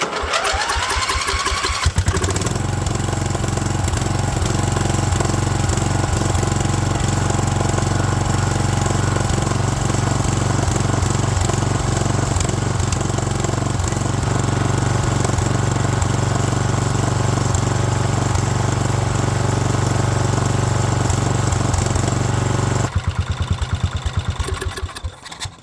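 A Wheel Horse 211-5 garden tractor engine with a faulty intake valve runs loudly and steadily at close range, with a throbbing chug and puffing back through the intake, after a brief start at the beginning.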